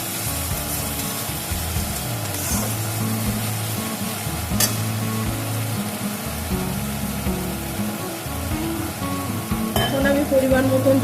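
Spices sizzle steadily in hot oil while being stirred for a spicy Bengali pabda catfish curry, a continuous close frying hiss with scraping stirs throughout.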